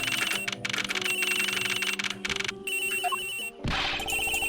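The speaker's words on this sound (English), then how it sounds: "The ringing's coming from somewhere in here, sir." A phone rings in the Ace Attorney video game, a fairly loud, dense ringing with brief gaps and a sharp burst of sound near the end.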